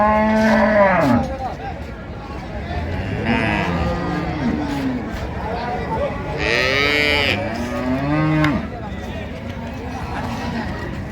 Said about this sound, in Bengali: দেখছিলাম এখানে গাভী বাছুর